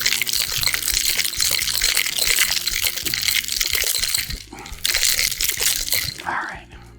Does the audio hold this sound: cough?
no